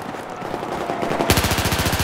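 Gunfire in the video game Battlefield 4: a short quiet lead-in, then a rapid burst of automatic fire with evenly spaced, punchy shots, loud and close.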